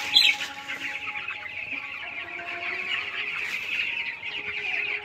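Broiler chickens in a poultry flock of about 500 birds cluck steadily and close by, overlapping calls forming a continuous chatter with no voices.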